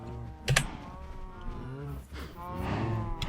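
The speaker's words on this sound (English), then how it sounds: "I could easily have 100 or so cows" Several cattle moo in Minecraft, the low, drawn-out game calls overlapping in a couple of bursts, the loudest near the start and another building toward the end, with faint keyboard clicks in the background.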